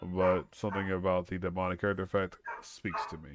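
A dog yips and barks in short bursts underneath a person talking continuously, the barking partly buried by the voice.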